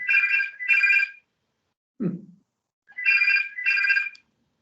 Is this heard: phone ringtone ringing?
yes